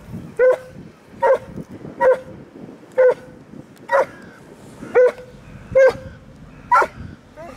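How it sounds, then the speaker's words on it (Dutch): A dog barks repeatedly and close aboard a motor cargo ship, about nine sharp yelps at a regular pace, roughly one per second, with quiet pauses between. "Hé, wat is dat voor een hond?"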